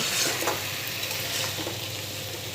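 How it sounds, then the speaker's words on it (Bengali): Masala frying in a pan while it is stirred, a steady close sizzle with soft scraping over about two and a half seconds, no voices. "একটু নাড়াচাড়া করবো, দিয়ে দেখবো যে কী অবস্থা, কত দূর হয়ে গেল।"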